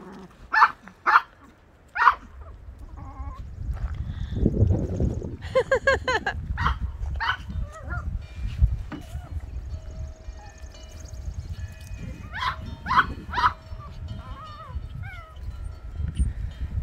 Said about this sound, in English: Ollie, shut up. Please shut up, Ollie